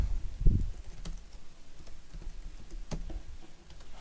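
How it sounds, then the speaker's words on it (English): An email address typed on a computer keyboard into a login form: sparse, light key taps spaced irregularly across the clip, close but quiet, over low background noise and a brief low thump early on. "you'll type in your email address."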